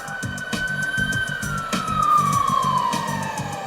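A Folsom Fire Department fire engine siren wailing loud and close, its pitch slowly rising then falling, over a pulsing, rumbling engine.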